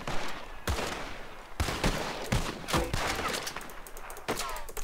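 Gunfire in the Western video game Red Dead Redemption, with several sharp, loud shots fired in quick, uneven succession over a busy in-game background.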